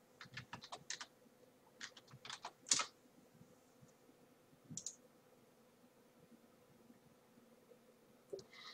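Quick bursts of keystrokes on a computer keyboard, with one sharper clack and a few later taps, while an email address is typed into a web page. The taps come in irregular clusters, close and fairly quiet, and no one speaks.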